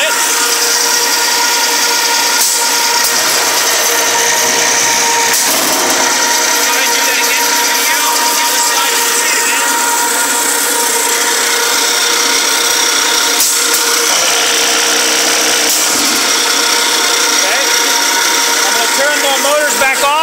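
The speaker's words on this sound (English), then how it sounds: "So now we're going to drill it." Power drill boring into a 1900 bifold door machine, a steady loud whirring grind running for the whole stretch, with a few short breaks and shifts in pitch as the bit works through the material.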